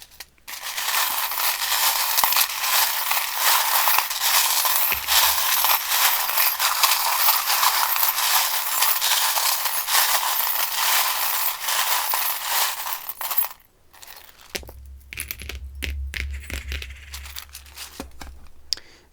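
Tarot charms and dice shuffled together in the hands, a dense continuous rattling and clinking of small hard pieces that runs loud and steady, then breaks off into a few scattered clicks and a low rumble near the end.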